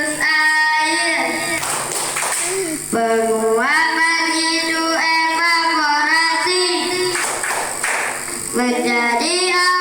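Children in a classroom chant a rhythmic water-cycle clap rhyme together in sing-song voices, with bursts of hand clapping between the sung lines.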